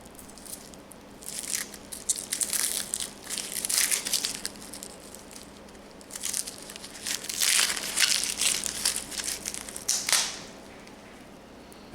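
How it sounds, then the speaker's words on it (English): Dry onion skin crackles and crinkles as fingers peel it away from a halved onion during prep for a smoked French onion dip, in two bursts of brittle rustling with a short pause between. "cut off one end of each half and then peel the onion"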